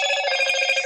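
A phone ringing nearby, a loud continuous electronic trill with a fast warbling pulse, heard alone without talk.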